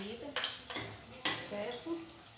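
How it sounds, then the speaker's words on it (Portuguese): Metal utensils scrape and clank against a pan a few times in separate strokes, with a soft sizzle of ground beef sautéing underneath. "Tá refogando a carne moída"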